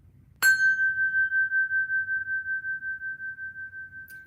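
A small bell with a dinger inside is struck once, giving a sharp clear ding that rings on as a long pure tone, slowly fading while pulsing gently, over a faint low background hum.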